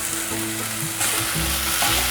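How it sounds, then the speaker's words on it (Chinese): Loud, close sizzling as black fungus, carrot and mushrooms are stir-fried quickly in a wok, with continuous frying hiss and scraping, tossing sounds of a spatula, no voices present. "快速的翻炒"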